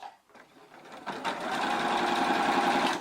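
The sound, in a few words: sewing machine sewing the sides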